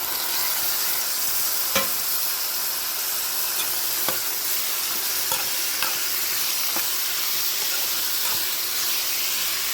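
Small tomato pieces frying in a hot pan, a steady broadband sizzle and hiss running throughout with occasional sharp clicks of a utensil stirring against the pan, close and continuous with no talking.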